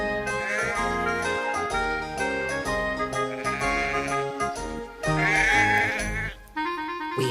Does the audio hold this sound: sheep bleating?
yes